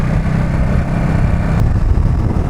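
A Triumph Speed Triple 1200 RR three-cylinder motorcycle engine runs at low revs, a steady, rough, vibrating rumble held at close range with no talk over it.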